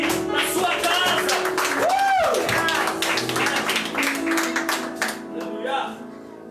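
Clapping at a family church service rings out as a round of applause, steady claps mixed with voices and a sung or spoken line over them, fading slightly toward the end.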